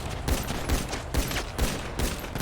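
Gunshots in NoPixel GTA V roleplay: five or six loud, evenly spaced shots ring out in a steady rhythm about half a second apart, close and punchy with no talking.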